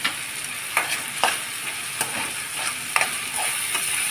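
Restaurant-style shawarma stirred in a frying pan: a steady high sizzle with a handful of sharp spatula scrapes and knocks spaced across the few seconds, no voices.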